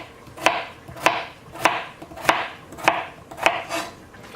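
A kitchen knife cuts food on a board in steady, evenly spaced strikes, about seven crisp chops at a regular rhythm, close and clear with nothing else heard.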